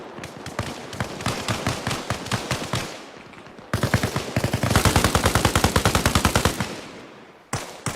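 Automatic weapons fire in Arma Reforger in long, rapid bursts of close, sharp shots, one burst, a brief gap, then a louder sustained stream of rounds and a final short volley.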